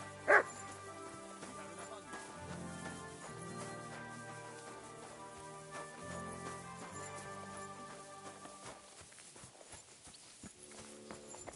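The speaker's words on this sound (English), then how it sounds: "You silly doggy." A dog gives one sharp, fairly loud bark right at the start, followed by a quieter stretch of rhythmic clopping and steady low background tones.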